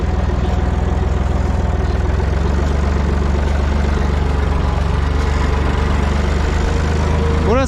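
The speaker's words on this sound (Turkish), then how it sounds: "Hem dipleri çapalandı hem de traktörle sürüyoruz şimdi." A Universal 453 tractor pulls a four-furrow plough between olive trees, its diesel engine chugging loud and close in a steady low throb, with a brief rising whine at the very end.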